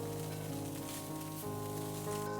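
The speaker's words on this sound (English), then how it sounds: "2 teaspoons dark soy sauce. Give the tofu a good stir to coat" Tofu stirred in a hot pan with dark soy sauce, a steady close sizzle and crackle of frying running unbroken for a couple of seconds with faint scraping under it.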